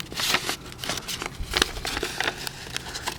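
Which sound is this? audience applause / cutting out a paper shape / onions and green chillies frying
cutting out a paper shape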